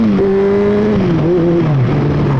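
A 2012 Honda CBR600F motorcycle engine with a decat exhaust revving hard, its pitch climbing and dipping through gear changes, with a raspy, unmuffled exhaust roar close by.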